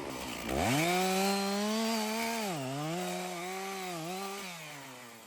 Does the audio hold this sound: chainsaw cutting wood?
yes